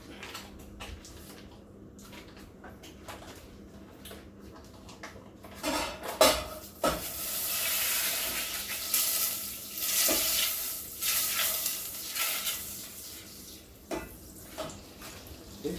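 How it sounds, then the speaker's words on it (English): Butter melting and sizzling in a pan for a seafood pie, a soft frying hiss that builds midway with clinks of a utensil against the pan, close and without talk. "I'll melt my butter."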